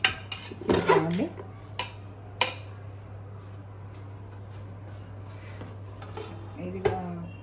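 A large steel cooking pot is handled during mutton dum biryani preparation, giving a few sharp metallic clanks and knocks near the start and end. Quieter kitchen handling and a low steady hum fill the gaps between them.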